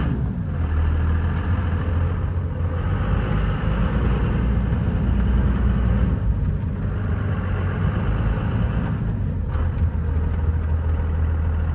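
A 2001 Dodge Ram 3500 with a 5.9L Cummins diesel runs steadily after a cold start, a continuous low rumbling engine drone held at an even, moderate level throughout with no talk.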